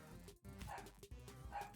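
Dogs barking indoors in a few quick yips and woofs over a steady background, close but fairly quiet.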